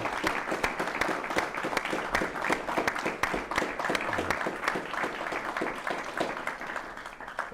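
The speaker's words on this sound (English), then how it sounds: "I think we can give Ric Keller a round of applause" A round of applause from an audience at a civil conversation event, dense steady clapping that continues throughout with faint voices beneath.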